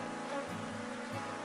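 Honeybees buzz at an open hive while a colony is being split and frames are handled, a continuous low drone at a faint level with no voices.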